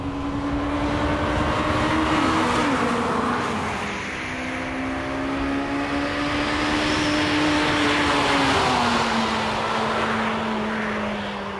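A Honda Civic Type R EK9 engine revs up loudly and close, its pitch climbing in steady sweeps and dropping at each gear change, with the rising and falling pattern repeating across several gears and no talking.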